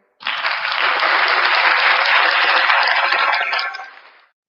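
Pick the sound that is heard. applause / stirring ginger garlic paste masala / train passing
applause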